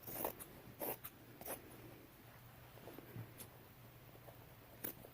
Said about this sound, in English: we're simply separating the leg from the top portion of these jeans